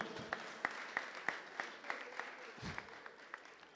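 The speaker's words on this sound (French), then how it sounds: "Donc je vous prie d'applaudir pour notre Benjamine." An audience at a writers' association launch ceremony at the National Museum in Kinshasa claps, with faint, regular claps spaced evenly over a soft background murmur.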